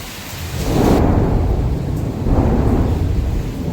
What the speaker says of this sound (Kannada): ಇಲ್ಲೂ ಸಹ ಮಳೆ ಗಾಯ್ಸ್, ಮಳೆ ಮಳೆ ಮಳೆ.